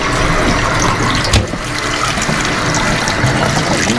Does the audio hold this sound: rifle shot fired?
no